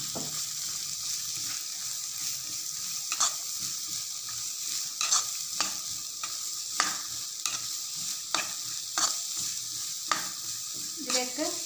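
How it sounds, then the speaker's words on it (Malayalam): Chopped beans fry in ghee in a hot pan, giving a constant close sizzle. A utensil scrapes and stirs at regular intervals throughout, with no one speaking. "അതിലേക്ക് അല്പം നെയ്യ് ഒഴിച്ചെടുക്കാം. ഇതിലേക്ക് ഞാൻ ബീൻസ് ഇട്ട് കൊടുക്കാണ്."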